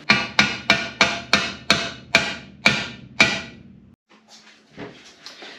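Hammer blows drive a crank seal into a GMC 302 inline-six engine, eight sharp metallic strikes in a steady rhythm, close and loud, followed by quieter handling noises.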